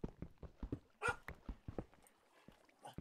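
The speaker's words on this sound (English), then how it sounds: "Quiet down, dog." A dog in a game barks in short sharp bursts and lets out a higher whimper midway, a quick run of yelps and cries with no talk over it.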